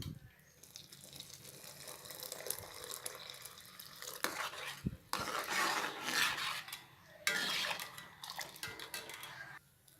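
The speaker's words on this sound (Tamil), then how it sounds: "இப்போ இது கூட நம்ம இந்த கரைச்சி வச்சுருக்கிற அந்த கோதுமை பால் எடுத்து சேர்த்துக்கலாம்." Wheat milk is poured into a pan of Tirunelveli-style samba wheat halwa and stirred in. Soft, close splashing and wet scraping come in uneven waves over quiet background noise.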